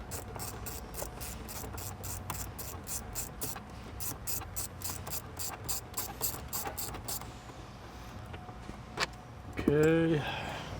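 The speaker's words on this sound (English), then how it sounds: "We just need to remove these two bolts so that we can get to the ECM" A ratchet wrench loosens bolts on a car's interior panel, a fast, even run of close clicking strokes that stops, followed by some rubbing and handling noise while a person talks.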